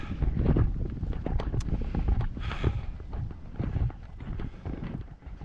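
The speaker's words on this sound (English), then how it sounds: "that is some good wind right there" Strong wind buffets the microphone throughout a cold winter outdoor walk, a loud continuous rumbling gust with no speech over it.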